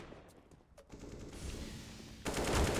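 Gunfire in a Counter-Strike match on the Overpass map, a run of shots that builds from scattered pops into a louder, denser burst toward the end, with no voices over it.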